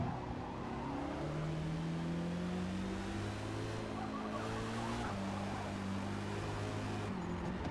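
A Porsche race car engine in Forza Motorsport drones steadily up close, its pitch climbing and dropping through gear changes in a sustained, even run.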